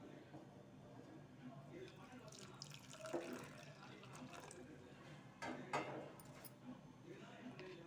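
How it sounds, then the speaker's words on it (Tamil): Warm water is poured into yeast for homemade veg pizza dough, soft trickling and splashing with a few louder gushes, faint and close, with a voice speaking quietly around it. "நம்ம அந்த தண்ணியெல்லாம் சேர்த்துக்கலாம்."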